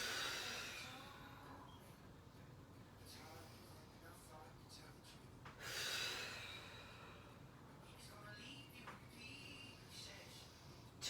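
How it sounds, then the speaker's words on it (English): Slow breaths drawn in and let out during a morning yoga flow, soft and close, with a stronger audible exhale midway and quiet room tone between breaths. "Inhale and exhale."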